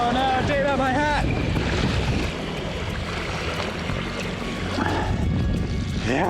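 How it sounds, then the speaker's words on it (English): Strong wind buffeting a sailing boat in choppy water, a loud, continuous rush of wind noise and sloshing water, with voices calling out over it. "It's quite windy today, actually, so I think the sail is gonna go a lot faster than we thought."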